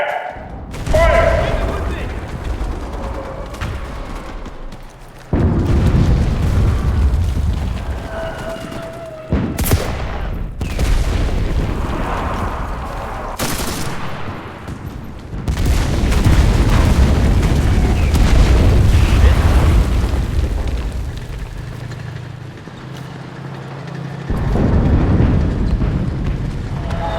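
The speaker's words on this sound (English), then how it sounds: "Calling in artillery." Artillery strikes in the Enlisted video game, a long sequence of loud, heavy booming explosions and rumbling blasts in repeated bursts, with voices talking over the barrage.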